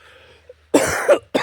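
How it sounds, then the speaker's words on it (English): A person on a rainy trail hike in Breadalbane, Prince Edward Island, coughs twice close to the microphone, a quick pair of harsh bursts followed by the start of a third, after a faint quiet moment. "You'll have to excuse my cough."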